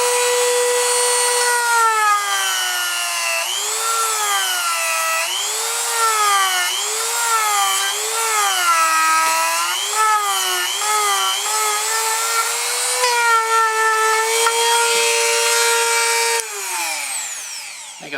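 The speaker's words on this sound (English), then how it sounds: "you can see how easy it carved out that piece of wood right there" An Engindot rotary tool runs at full speed carving soft pine, a loud, continuous high whine whose pitch dips and recovers repeatedly as the bit bogs under load, then winds down at the end.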